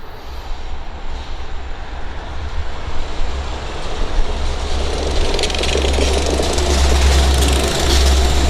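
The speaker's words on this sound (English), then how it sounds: "Y'all like watching this train pass by?" A train passes near a cemetery, a loud continuous rumble with deep low-end vibration that builds and holds steady for several seconds, up close and without speech.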